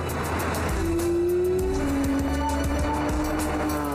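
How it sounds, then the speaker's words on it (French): A Porsche 911 GT3 RS with manual transmission makes a sporty launch using launch assist, its engine roaring loud and close as the tires squeal in a rising screech. "prendre un départ sportif en faisant crisser les pneus grâce à l'assistance au démarrage"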